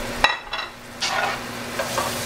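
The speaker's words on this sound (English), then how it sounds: "I'm gonna take these pan drippings and I'm gonna put my button mushrooms in" Button mushrooms hiss and sizzle in steak pan drippings for Steak Diane, with a few scraping stirs of a utensil against the pan standing out over a steady close frying hiss.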